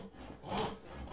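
A hand saw starts a cut in wood for a mitered bridle joint, making a few short, close rasping strokes with no talking.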